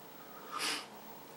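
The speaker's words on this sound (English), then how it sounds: "I'm sorry, I'm sniffing like crazy." A single short sniff from a person doing their foundation makeup, quick and fairly quiet, rising and fading in under half a second against a soft background hiss.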